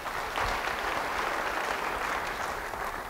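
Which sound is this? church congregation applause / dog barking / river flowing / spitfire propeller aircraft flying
church congregation applause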